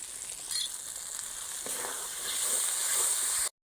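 Sour yogurt being added to a pan of frying cabbage kofta masala, with a steady close sizzle that grows a little louder toward the end and some stirring scrapes.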